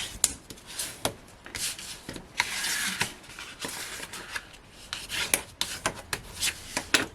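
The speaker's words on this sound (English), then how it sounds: "I'm going to give that a good burnish down with this bone folder" A bone folder burnishes down folded card stock with a series of dry, scraping rubs, repeated strokes of varying length close up, with no talking.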